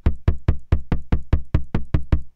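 A Reason Kong drum machine kick drum with its decay turned down plays about twelve short, punchy, evenly spaced hits in quick succession, each dying away fast and loud in isolation.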